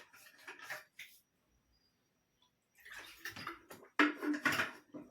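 A person drinking water, close wet gulps and swallowing in two short bursts separated by a quiet pause, with no talking.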